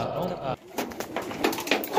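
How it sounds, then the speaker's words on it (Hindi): Pigeons coo softly in short throaty bursts, with a person talking nearby over them. "हमारे एक दोस्त हैं फरदीन भाई वो पालते हैं कबूतर"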